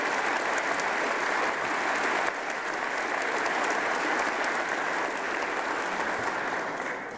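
Audience applause for college presidents at a state of the state address, a dense, even roar of many hands clapping that fills the space continuously for several seconds, loud and sustained before tapering slightly at the end.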